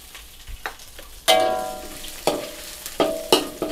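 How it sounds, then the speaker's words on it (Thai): Shallots and preserved radish are stir-fried in a wok for pad thai, with loud, close bursts of sizzling hiss and repeated spatula scrapes against the metal in quick strokes. "ผัดให้หอมเลยนะครับ หอมแดงเริ่มเปลี่ยนสีใส่ไชโป้ครับ"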